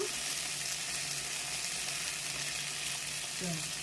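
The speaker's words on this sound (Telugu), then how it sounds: "ఒక స్పూన్ జీలకర్ర, అది కూడా ఫ్రై అయిపోతుంది, వేడికే అయిపోతుంది కదా ఫ్రై" Cumin seeds and chopped coriander leaves sizzle steadily in hot oil in a pan while radish chutney is cooked, a close, continuous frying hiss with a few faint stirring touches near the end.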